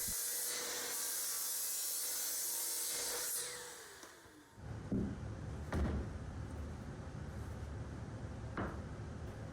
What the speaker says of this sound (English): now I'm going to take those and I'm going to cut them into 6 pieces at 11 3/4 inches.